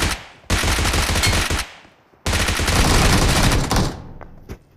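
Two loud bursts of rapid automatic gunfire from a BGMI mobile battle-royale game, the first about a second long and the second longer, separated by a short pause.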